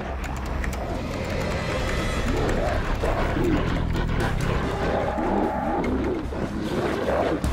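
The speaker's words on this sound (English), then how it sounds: "I hear a lurker." In the World War Z video game, a lurker zombie growls and snarls in deep, rough bursts over constant rumbling game noise, loud and close throughout.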